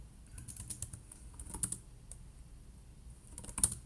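Computer keyboard typing while operating a ROS 2 robot simulation, a run of light, irregular key clicks with a few louder presses near the end, close and alone.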